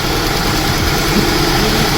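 A Honda CR-V engine idles with a cylinder misfire, a loud, steady low rumble heard close up with no voices over it.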